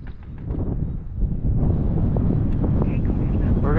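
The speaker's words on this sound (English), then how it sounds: "this wind is strong enough where it is really" Strong gusting wind buffets the microphone outdoors at a model aircraft flying field before an FMS Viper 70mm jet takeoff, a loud, continuous roar that swells partway through, with someone talking under it.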